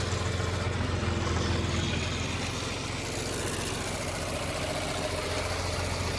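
A John Deere 4020 tractor engine drones continuously at a steady, rumbling pace, fairly close, pulling a mower, with no talking over it.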